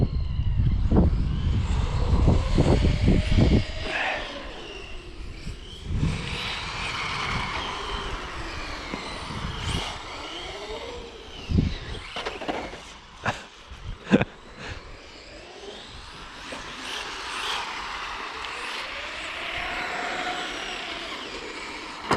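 A TT01 RC car with a 3500kv motor on a 3S battery accelerates on icy ground. Its motor whines faintly, rising and falling in intermittent bursts, broken by sharp clicks and knocks, with no talking.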